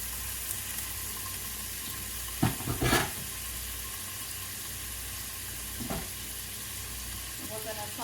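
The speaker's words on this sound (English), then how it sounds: "And we're gonna saute this ham." Diced ham sautés in a pan, a soft steady sizzle with a couple of brief clattering scrapes of a spoon moving the pieces, otherwise quiet and without talk.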